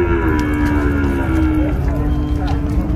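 A Nelore cow lets out a long, deep moo that slides downward in pitch at a busy cattle fair in Ouricuri, Pernambuco, loud and near over a murmur of crowd noise and background voices.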